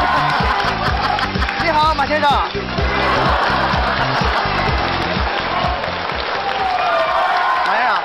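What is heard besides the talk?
studio audience applause welcoming a guest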